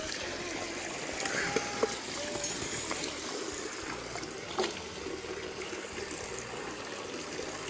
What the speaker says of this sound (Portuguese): Vou dar uma descarga boa nessa água.